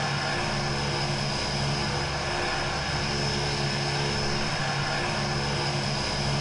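A Thai Airways airliner in BeamNG.drive drones with a loud, steady engine roar coming in to land, a dense continuous rumble with no pauses.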